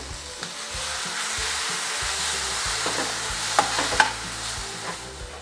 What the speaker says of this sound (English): here I've got frying some crispy pig's head